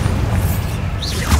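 A Confringo blasting spell fires in Hogwarts Legacy, a deep booming burst with a quick whistling streak and a second low thump near the end, close and loud.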